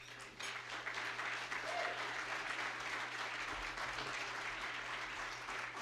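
An audience at a Wayne State University law review symposium applauds to welcome speaker Karen O'Keefe, a steady wash of clapping that holds for several seconds with no one speaking.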